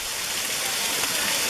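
Falling water on the Glen Onoko Falls trail near Jim Thorpe, Pennsylvania, heard from close by as a constant broadband hiss and rush, steady and loud with no breaks or voices.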